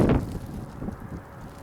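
Wind blowing across an open outdoor field, a steady low rumble with a stronger gust at the start, continuing at moderate level without speech.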